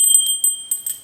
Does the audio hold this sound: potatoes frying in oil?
no